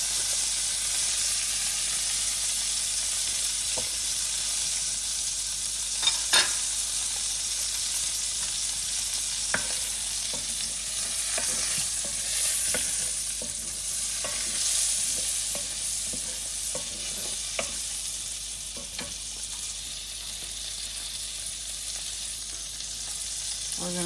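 Cod sizzles in melted butter in a pan, a steady, close hiss lasting throughout with scattered small pops and crackles and no talking.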